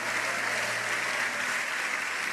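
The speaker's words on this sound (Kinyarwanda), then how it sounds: "nimwongere Yesu amashyi menshi" A church congregation claps for Jesus in a thick, continuous burst of many hands applauding together, steady and full throughout.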